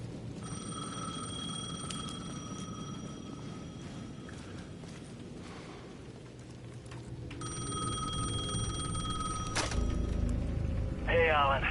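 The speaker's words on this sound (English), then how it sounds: "The payphone at the edge of the plaza was ringing again." A payphone at the edge of a plaza rings in Alan Wake 2, two long electronic ring bursts with a pause between, over dark ambient rumble and faint footsteps, ending in a short warbling tone.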